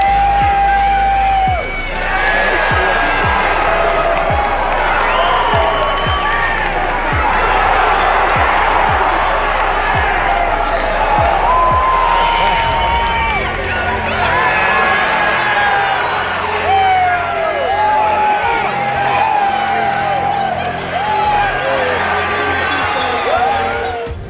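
An arena crowd at a boxing fight roars with cheering, whoops and applause as a fighter pins his opponent to the ropes with a sustained flurry of punches. The loud, dense and continuous noise swells over a rapid thudding stretch.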